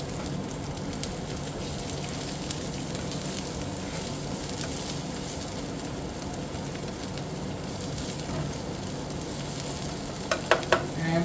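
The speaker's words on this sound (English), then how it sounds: "So we're going to get the onions in there first. Let's get those moving around very nicely." Onions fry in a pan while being stirred, giving a steady crackling sizzle throughout, with a few sharp utensil knocks near the end.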